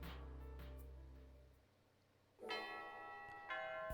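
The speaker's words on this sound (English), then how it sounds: "The morning bell rang as Natsuhiko and Sayu entered the classroom" A school morning bell chimes in a visual novel game, a low sustained tone fading before bright, ringing bell strikes enter around midway and repeat a second later, clear with no talking.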